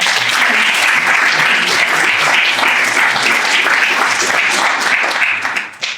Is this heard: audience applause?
yes